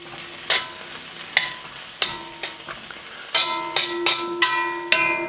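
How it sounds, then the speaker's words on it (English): Bok choy sizzles in a pan with a garlic and ginger sauce, a steady close fry broken by sharp scrapes and clinks of stirring every second or so, quickening toward the end. "I'm going to let this continue to simmer, soften up a little bit"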